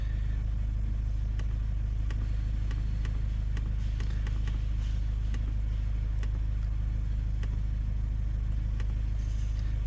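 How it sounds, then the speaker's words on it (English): Nissan X-Trail diesel engine with a low-boost fault accelerating as boost rises, a steady loud low rumble with a constant drone and no voices. "we start to sort of accelerate as the boost comes up"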